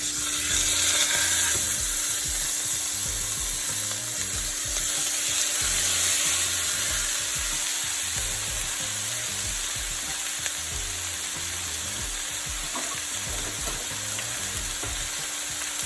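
Steak pan-frying in hot oil gives a loud, continuous close sizzle with crackling spatter, steady from start to finish, with a low mechanical hum underneath and no talking.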